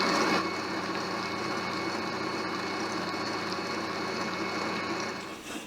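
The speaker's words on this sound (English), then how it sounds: "Whisk together for a couple of minutes." Butter and sugar being whisked together for a cake batter, most likely with an electric mixer, giving a loud, steady motor whir that runs throughout and eases off slightly at the end; no talking.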